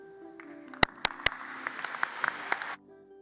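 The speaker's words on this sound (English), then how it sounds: "That's the kind of applause I like to hear for this great group of people" Audience applause at a Clemson ring ceremony, a brief patter of claps with a few loud sharp individual claps standing out, fading after a few seconds to quiet.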